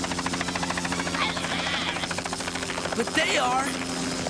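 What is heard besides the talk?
helicopter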